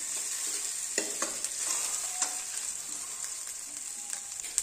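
Green chilies and crushed ginger fry in a pan, a steady, fairly faint sizzle and hiss with occasional light stirring taps.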